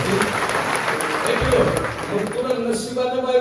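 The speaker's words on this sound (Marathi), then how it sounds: "टाळ्या वाजवण्यासाठी" A crowd claps at a devotional kirtan during the Sant Tukaram Maharaj Beej festival in Dhondpada, producing a dense, steady wash of applause that lasts the whole stretch, with voices mixed in.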